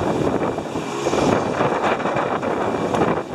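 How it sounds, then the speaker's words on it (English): Wind gusting during Hurricane Matthew, a steady broadband roar with buffeting surges against the microphone, loud and continuous with no speech. "the wind is starting to pick up a little bit"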